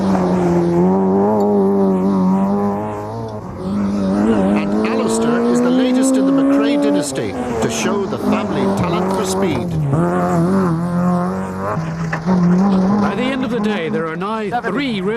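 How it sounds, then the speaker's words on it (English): A rally car at the 1990 Donegal International Rally works hard through a corner, its loud engine note rising and falling with gear changes while a commentator talks over it. "Stephen Price could teach his dad John a thing or two about this corner"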